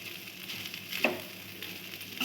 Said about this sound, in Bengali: ভাতটা দেখো খুব সুন্দর করে আমি নেড়ে নেড়ে কিন্তু ভেজে নিচ্ছি বন্ধুরা